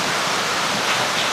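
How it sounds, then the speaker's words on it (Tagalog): Heavy typhoon rain pours down steadily in Tuguegarao City, a dense, continuous hiss of water filling the air, loud and close with no voices. "Napakalakas ng ulan dito."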